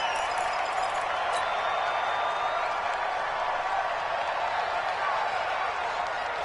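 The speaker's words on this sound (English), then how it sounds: "The crowd here in the Dome making things difficult." Steady roar of a large indoor stadium crowd in the Dome during a football game near the goal line, a dense continuous wash of cheering and noise, with a commentator's voice over it.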